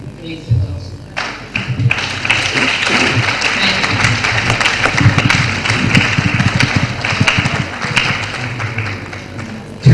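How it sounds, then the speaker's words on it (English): An audience applauds at a global midwifery conference in Nigeria, dense steady clapping that builds fast and holds loud and close for several seconds, with scattered voices and cheers under it. "Can we please give them another resounding applause?"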